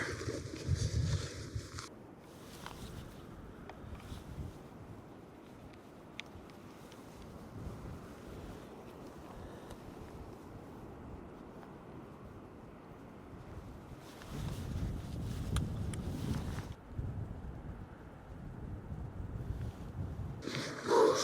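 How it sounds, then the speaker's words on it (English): Biting wind gusts across the coast of the Isle of Lewis near sea stacks, a steady broadband roar with stronger buffeting swells at the start, middle and end, and no talking. "This wind is biting."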